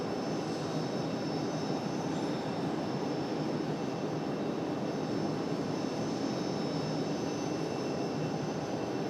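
A Southwest airliner approaching at Raleigh-Durham airport makes a continuous broadband jet rumble with thin high whine lines, even and moderately distant throughout, with no voices.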